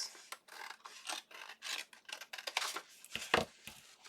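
Paper being trimmed with scissors for a junk journal pocket: a close, quiet run of short rasping snips and rubs in uneven rhythm, ending in a couple of sharper cuts.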